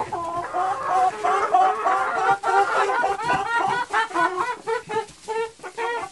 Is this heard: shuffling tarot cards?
no